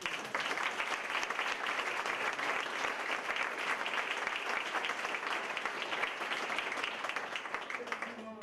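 A lecture audience breaks into another round of applause, many hands clapping in a thick, continuous wash at steady volume throughout, with no break in the sound.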